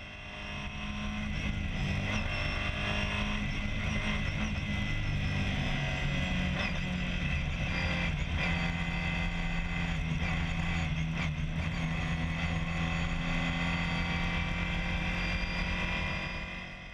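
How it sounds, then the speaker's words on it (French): Inside VW Fun Cup race car number 342 during a race at Spa-Francorchamps, the engine roars continuously and loud for the whole stretch, a dense sustained drone with faint shifts in pitch. "On plonge au cœur de la course et on vit le premier passage du Raidillon à bord de la 342 des champions 2015, Trendy Foods Monster."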